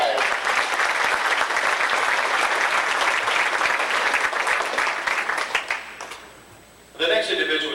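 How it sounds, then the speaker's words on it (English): A banquet audience at a racing championship awards dinner gives a big round of applause, sustained dense clapping that fades out, then a voice comes in at the end. "big round of applause"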